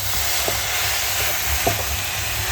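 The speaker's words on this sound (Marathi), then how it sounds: "सुकट सर्व व्यवस्थित मिक्स करून घ्यायचं." Dried shrimp (jawla) and drumstick flowers being stirred in a pan, a steady sizzling frying hiss with a few soft scraping strokes of the spoon, close and moderately loud, no talking.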